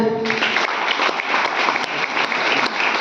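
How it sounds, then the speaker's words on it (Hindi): Audience applause at a motivational talk in Gopalganj: a brief voice at the start, then dense, steady clapping from a sizeable crowd that fills the rest, close and fairly loud. "उसके बाद से ताली होना चाहिए।"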